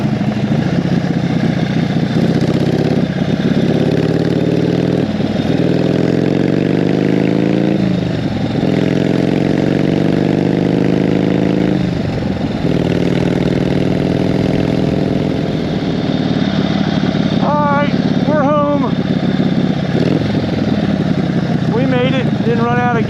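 A Harley Ironhead motorcycle engine runs steadily while the bike rides home on the road, a loud, close drone that rises and falls as it shifts through the gears. The rider talks briefly over it.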